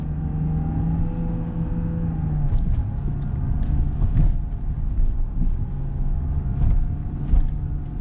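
A Land Rover Defender 90 crawls off-road in second gear of low range with the center diff locked, a low engine drone with steady tones, plus bumps, rattles and some wind buffeting on the microphone.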